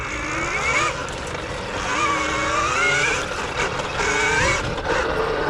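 A 2020 KTM Freeride E-XC electric motorcycle motor whines and rises in pitch as it revs up quickly, with the harmonic tones sweeping up and down over steady wind and tire noise while riding.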